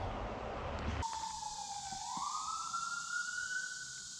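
An ambulance siren heard outdoors on a mountain trail, a wailing tone that rises and sweeps steadily over several seconds, fairly distant and faint, alone without talking.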